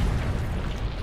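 A grenade detonates in Rainbow Six Siege during a competitive ESL League match on the Metro map: a dense, rumbling blast that fills the whole second at steady loudness, with no talk over it.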